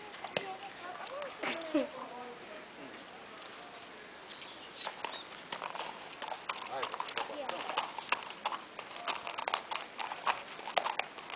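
Horse hooves clip-clop as a horse is ridden outdoors, with a steady uneven patter of hoofbeats. People talk over them and birds call faintly in the background.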